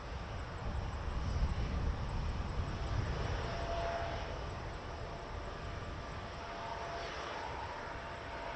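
A jet rolling out for takeoff at Toronto Pearson Airport, a steady distant roar of engines rising slightly then holding as a broad, even wash of noise.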